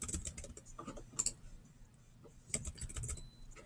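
Quiet keyboard typing on a Chromebook during a Linux install, with soft clusters of key taps in short irregular bursts separated by brief pauses, faint and close.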